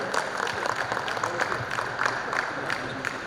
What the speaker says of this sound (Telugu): ఒకసారి గట్టిగా చప్పట్లతో